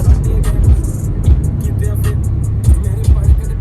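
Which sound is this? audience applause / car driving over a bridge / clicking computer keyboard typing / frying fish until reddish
car driving over a bridge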